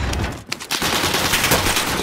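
Rapid bursts of video game gunfire, dense automatic shots crackling loudly and continuously with a brief dip midway, no talk.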